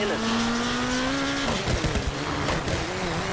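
Rally car in WRC 4 on a fast stage, with a steady, loud engine note that climbs, then drops into a tyre scrub or skid with gravelly noise midway, while someone talks over it.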